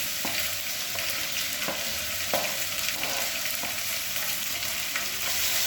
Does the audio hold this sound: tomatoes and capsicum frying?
yes